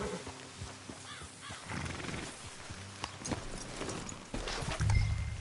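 Horses in Red Dead Redemption 2 neighing and snorting close by, with clip-clopping hooves and shuffling movement, and a louder whinny near the end over a busy game ambience.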